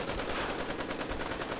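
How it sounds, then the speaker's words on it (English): Ear-splitting chorus of gunfire erupting in a hotel lobby in a comedic space-opera audio drama, a dense continuous rattle of rapid shots filling the short stretch at steady loud level with no speech. "there came an ear-splitting chorus of gunfire from the lobby of the pale blue dot"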